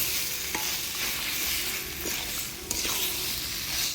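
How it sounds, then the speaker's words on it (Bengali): Mutton coated in spice paste sizzles in a frying pan, with a continuous hiss broken by a few soft stirring scrapes and one sharper knock near the middle. "মশলার সাথে মাংসটা ভালোভাবে নাড়াচাড়া করে নিলাম"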